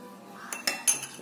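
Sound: spoon stirring dalgona coffee mixture in a glass

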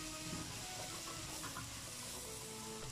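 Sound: frying boiled lobia (beans) in a pan

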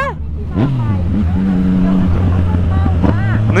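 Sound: motorcycle engine during a wheelie

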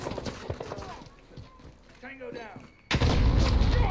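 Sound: gunfire in a shooter video game

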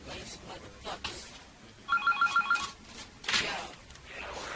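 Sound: telephone ringing

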